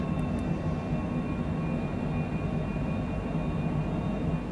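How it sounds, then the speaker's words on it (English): Steady, broad engine roar of an airliner taking off in a flight simulator game, departing Sydney, with a constant rumble and faint high whine that stays even throughout. "Beautiful takeoff."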